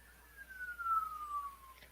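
A police car siren wails faintly in the distance with one long, steadily falling tone as the cruiser passes by heading north, with no voices over it.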